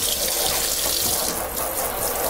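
Tap water runs steadily into a kitchen sink as things are rinsed off under it, a continuous close splashing hiss with no talk.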